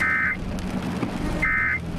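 Weather radio alert tone for a tornado warning, sounding as two loud, steady electronic beeps at the start and end over a rumbling background.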